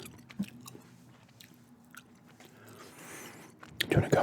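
Gum being chewed close to the mic in a quiet room, soft wet clicks and smacks spread through the clip, then a louder crunchy burst near the end.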